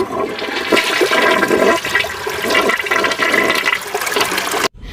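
A toilet flushes in an Indian village home, a loud close rush of water gurgling steadily for several seconds before cutting off suddenly, with no voices.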